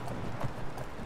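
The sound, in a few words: horse hooves clip-clopping in Skyrim video game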